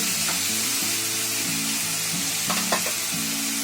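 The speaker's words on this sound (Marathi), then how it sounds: "आता आपल्याला याच्यामध्ये आहे ना मशरूम टाकायचे. मशरूम टाकते." Mushrooms dropped into a hot pan for pepper mushroom, a loud close sizzle and spatter, with a steady hum running beneath and a few sharp crackles late in the clip.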